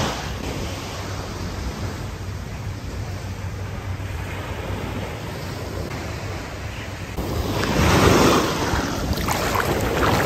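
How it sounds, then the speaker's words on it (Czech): Large sea waves wash onto an Australian beach as a steady, broad roar, swelling louder toward the end as a bigger wave breaks nearby, with wind buffeting the microphone and no voices. "za prvé moře, velký vlny, jako vidíte za mnou"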